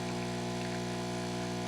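A Breville Bambino Plus espresso machine pumping a shot, giving a steady, loud mechanical hum with strong tonal harmonics that holds unbroken and alone throughout.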